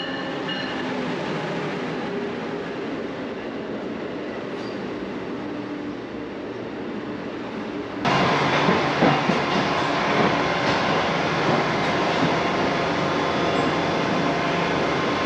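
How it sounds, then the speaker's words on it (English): Inside an executive-class carriage of a Trenitalia Frecciarossa 1000 high-speed train, a steady rumble and rolling noise of the ride continues throughout, growing louder and rougher halfway through, with no one talking. "what it's like to ride in executive class on Trenitalia"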